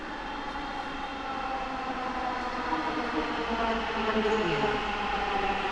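A Dhaka Metro Rail train arrives at Pallabi station with a steady whining electric drone and rumble, sustained and fairly loud under faint station ambience.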